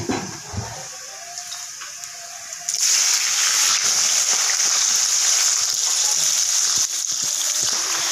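Oil sizzles and crackles steadily as thinly sliced vegetables fry in a pan, a bright hissing that jumps louder partway through and keeps going.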